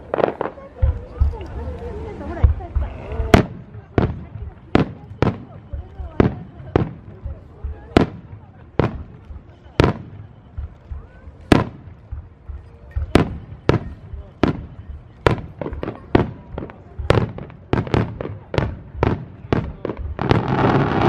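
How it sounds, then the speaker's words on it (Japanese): Fireworks at the Aizu fireworks show in November 2018 burst one after another in loud, sharp booms with brief echoing tails, about one explosion every second, while people talk in the background. "この花火高そう"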